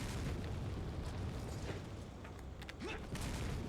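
Grenade explosions in Resident Evil 4 make a dense, rumbling roar that holds through the whole stretch, with a low boom and debris-like crackle underneath.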